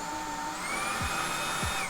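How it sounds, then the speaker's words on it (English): A Fanttik Fold V10 Apex Pivot cordless car vacuum runs with a high-pitched whine that shifts pitch as it switches between high and low suction modes, with a couple of short clicks, close and loud. "it's basically got a high power suction mode and a low power suction mode"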